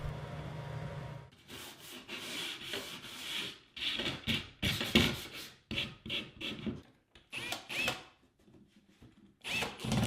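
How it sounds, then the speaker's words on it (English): Oscillating belt sander rounding over plywood corners for a folding stool, heard as a series of close, loud grinding bursts of varying length separated by short pauses as the workpiece is pressed on and lifted off. "right here I'm just using the oscillating belt sander to round those over just to give it a better look"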